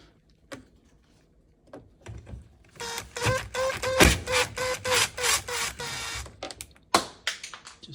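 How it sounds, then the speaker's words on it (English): Mounting screws come out of a dishwasher during a DIY replacement: a few light clicks, then about three seconds of close, steady mechanical whirring with no talking. "Should be 2 screws. Go ahead and remove that one"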